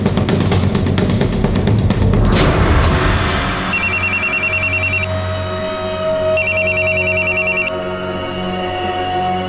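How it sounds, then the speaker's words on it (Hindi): A telephone rings after a number is dialled: rapid dial tones first, then two bursts of electronic trilling ring separated by a pause, loud and close, with a low hum beneath and no talk. "इस नंबर पे फोन लगा के देखो।"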